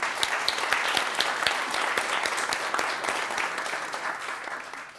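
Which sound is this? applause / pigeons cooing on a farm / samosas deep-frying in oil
applause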